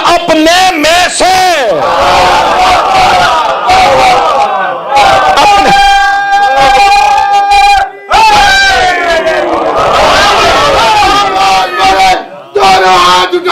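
A large crowd chants and roars slogans in unison with both hands raised, loud and continuous, with a lead voice calling and the mass of voices answering in repeated surging waves.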